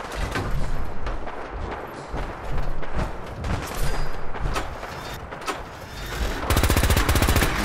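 Dense, continuous gunfire from a gatling laser in the Fallout game, rapid bursts and volleys layered over one another at close range, ending in a sharper, steadily pulsing stream of shots.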